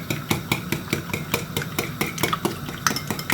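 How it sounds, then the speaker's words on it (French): Whisk or spoon rhythmically stirring a batter of milk and flour in a bowl, a steady series of bright scraping taps about three per second, close and alone. "Je mélange bien pour pas faire de grumeaux."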